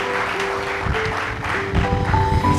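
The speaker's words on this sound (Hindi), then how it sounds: "जोरदार ताली बजा के प्रभु की महिमा करें।" A church congregation at a Hindi Sunday service claps loudly together, a steady rattle of applause over sustained keyboard-like musical tones that swells toward the end.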